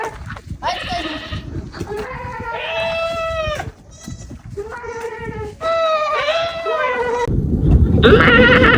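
A frightened goat bleats several times close by in the Sahara Desert near Fderik, Mauritania, long wavering cries separated by short pauses, with some faint rustling and background noise.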